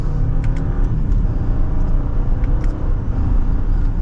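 A 2024 Audi Q8 SUV engine pulls steadily under acceleration in dynamic mode, a deep continuous rumble with a smooth rising whir heard from inside the cabin.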